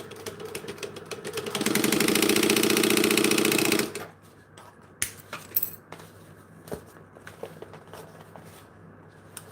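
Sewing machine running a chain stitch through waterproof canvas, a steady loud mechanical whir for about two seconds, then stopping and leaving faint handling clicks and rustles.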